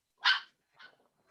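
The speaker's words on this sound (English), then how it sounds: "You may have all just heard my dog barking" A single sharp dog bark, followed by a softer, shorter second bark, both close and isolated against silence.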